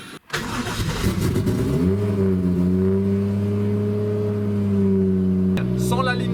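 A Nissan S14 engine with no exhaust line fires up, then revs to a loud, raw, steady drone that holds for several seconds. It ends in an abrupt click followed by a brief, unsettled burst of noise.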